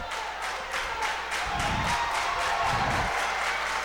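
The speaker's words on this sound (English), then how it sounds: "You hear that Concordia crowd." The Concordia crowd at a high school wrestling match roars in a steady, loud wash of cheering and clapping with rhythmic pulses, while thumps from the mat break through partway.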